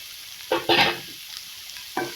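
Close sizzling of chopped cabbage sautéing in a pan with a few distinct stirring scrapes and tosses, irregular bursts over a steady frying hiss, no talking.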